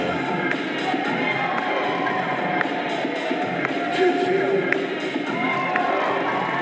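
Crowd cheering and shouting at a breakdance battle between b-girls from China and Portugal, a steady roar of voices with scattered whistles and whoops over continuous background music.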